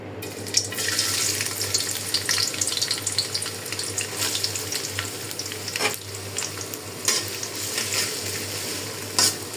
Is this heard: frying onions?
yes